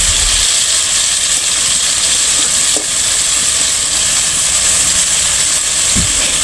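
Chicken pieces frying in hot oil in a kadai, seasoned with garam masala and salt, a steady loud hiss and sizzle throughout with a couple of brief clinks, no voices.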